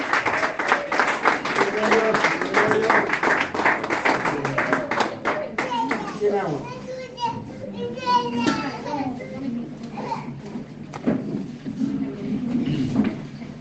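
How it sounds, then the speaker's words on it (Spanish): A church congregation claps loudly and continuously, the applause gradually thinning out as voices and children's chatter rise in a large room. "Recibimos la palabra con un fuerte aplauso"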